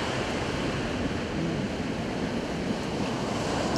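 Sea waves churn under a strong northwesterly wind on a cold night at a fishing spot, a dense continuous roar of surf and wind buffeting the microphone with no clear breaks.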